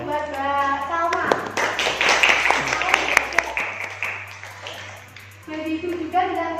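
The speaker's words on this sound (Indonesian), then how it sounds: "Beri aplaus dulu buat Mbak Salma." A classroom group applauds for a student, a burst of clapping hands lasting a few seconds with a teacher's voice speaking before and after.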